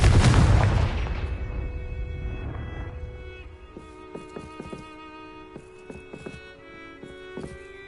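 Blasting-spell explosion from the Hogwarts Legacy video game: a loud, broad boom opens and decays over a couple of seconds, followed by quieter scattered clicks and ringing magical tones.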